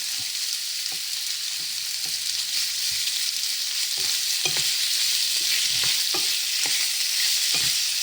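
Marinated prawns for prawn tikka rice fry in a pan with a dense, constant hiss, punctuated by soft knocks of a utensil stirring every second or so, close and steady with no talking.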